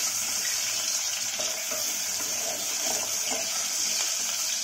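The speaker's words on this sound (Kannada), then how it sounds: "ಈರುಳ್ಳಿ ಹಾಕಿ ಚೆನ್ನಾಗಿ ಫ್ರೈ ಮಾಡಬೇಕು" Chopped onions frying with cloves in a pan, a steady soft sizzle with light stirring scrapes, fairly quiet and continuous with no voices.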